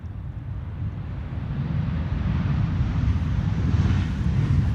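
A KLM Boeing 737 airliner arriving at an airport, its broad jet engine roar rising steadily and staying loud and continuous, with some wind noise on the microphone.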